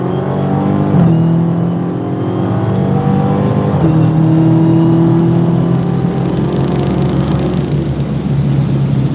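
A drag race car makes a pass down the drag strip, its engine a loud, steady roar close by. The pitch drops sharply twice as it shifts gears, and the roar holds for the whole run with no talking.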